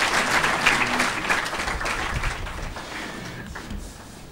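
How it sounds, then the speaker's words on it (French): An audience at a university ceremony applauds, many hands clapping in a full, continuous burst that gradually thins and fades toward the end. "des applaudissements pour Madame Khadi."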